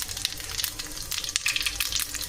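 Cumin and mustard seeds sizzling in hot oil on a low flame, a close, busy crackle with sharp popping bursts scattered over a steady frying hiss, no voices.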